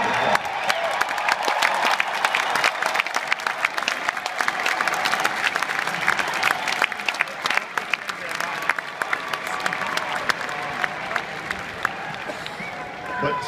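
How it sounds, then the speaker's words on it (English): Enthusiastic applause and scattered cheers rise from the audience at a Rock and Roll Hall of Fame induction for Kiss, a thick, steady wash of clapping that holds for over ten seconds before easing off, with a voice heard faintly in it. "they deserve a round of applause"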